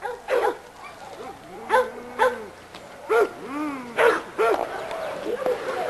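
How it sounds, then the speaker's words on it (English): A yard dog on a chain barks repeatedly, each bark loud, close and separated by short gaps, with some whining in between. "this is a dog called Hooten's Headhunter."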